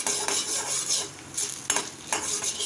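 Chana dal and urad dal roasting in a hot pan, stirred with a utensil in a few scraping passes over a soft, steady sizzle, close and alone.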